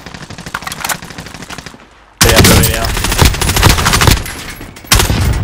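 Gunfire in a battle royale video game: loud, close bursts of rapid automatic fire, broken by a brief pause before heavier shooting resumes.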